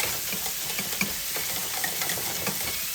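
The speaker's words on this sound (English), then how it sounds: "Giving this a good stir here." Blackened shrimp stirred in a hot pan give a steady, close sizzle and frying hiss, with light scattered clicks and scrapes from the stirring throughout.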